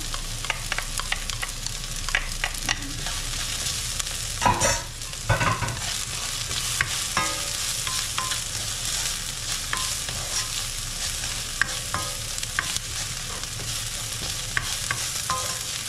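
Chopped garlic sizzles and crackles steadily in a hot pan while a utensil scrapes and stirs it in bursts, part of a pork giniling dish, with no talking.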